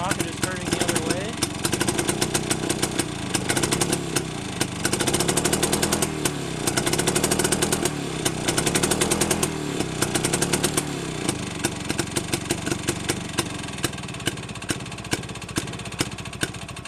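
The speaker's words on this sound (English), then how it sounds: "we have the engine cranking and running over in both directions" Close, loud, rapid chugging from an engine cranked and running in reverse direction, sprocket spinning backwards, with a slight rise and fall in pace before settling into an even, slightly quieter beat toward the end.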